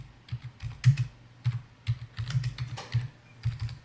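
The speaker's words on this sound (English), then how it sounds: "now you're typing away on your key. I hear the plastic" Steady typing on a plastic computer keyboard, keys clacking in an irregular rhythm of quick clustered strokes, close and fairly soft, with no voices.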